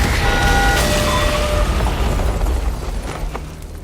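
A loud, close explosion in a kitchen, from a film: a sharp burst followed by a rumbling, debris-filled roar that gradually fades over a few seconds, with no talk.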